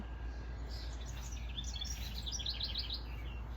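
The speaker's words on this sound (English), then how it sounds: "Just listening to the birds over there." Birds chirp outdoors on a spring morning, many quick high tweets clustered in bursts over a low steady rumble, moderately distant and soft.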